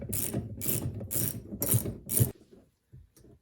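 A ratchet wrench removes seat belt bolts from a 1968 VW Beetle, with five quick, loud bursts of clicking in steady rhythm, then a couple of faint, short clicks alone.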